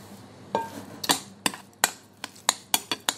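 A utensil stirs sweet beans with honey for Vietnamese honey rice cakes (banh chung), giving a series of sharp, clicking taps against a bowl at an irregular rhythm, close and distinct.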